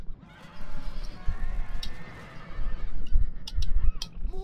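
Horses neigh and whinny amid a battle with horse archers in the video game Roma Surrectum 2, several high calls rising over a rumbling din of hooves and combat, fairly loud and close.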